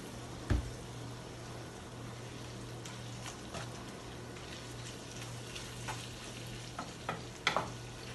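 Barbecue sauce cooking in oil in a frying pan for homemade Mexican-style burritos, a steady quiet sizzle with a few sharp spatula clicks and scrapes scattered through, no talking.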